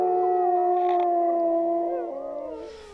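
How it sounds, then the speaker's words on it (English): Two wolves howl together in a sustained, harmonizing chorus, long steady tones rising and bending against each other, loud and close, fading toward the end. "there was only two wolves sitting there howling away"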